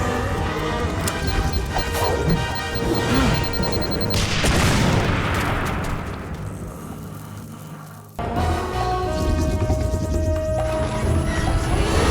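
A burst of gunfire and crashing impacts in a Batman animated movie action scene, loud and clustered with a swelling boom midway, a brief drop to near silence, then resuming ambient clatter and a tonal hum.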